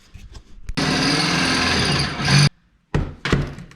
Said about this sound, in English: Hole drill.